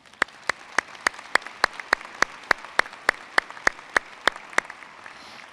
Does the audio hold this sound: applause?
yes